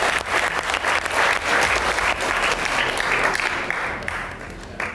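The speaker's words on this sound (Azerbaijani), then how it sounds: "Aksafa Gənclər Evinə hamımız alqışlayaq dostlar." Audience at a youth house competition show applauds in a dense, sustained burst of clapping that stays loud for the whole stretch and thins slightly near the end.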